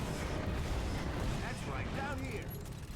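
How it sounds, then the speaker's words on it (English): An explosion in the video game Captain America: Super Soldier, a dense rumbling blast that fills the short moment, with crackling debris and brief whistling effects trailing after it. "Explosion."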